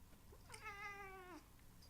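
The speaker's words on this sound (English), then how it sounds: "if I can make my cat meow right now" A single clear, drawn-out cat meow, nearby and fairly soft, rising and then falling in pitch, with quiet surroundings before and after.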